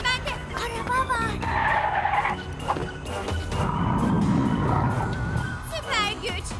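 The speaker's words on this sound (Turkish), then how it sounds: "Araba var." A cartoon car skids with a drawn-out screech and roar, moderately loud, while characters speak over and around it.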